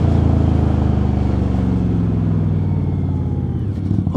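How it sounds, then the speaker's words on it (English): An Indian Scout Bobber motorcycle with Vance & Hines High Output Grenades exhaust rumbles nearby in a deep, steady drone that eases off slightly toward the end. It sounds loud and close, with no voices. "I just love the sound of these Vance and Hines grenades"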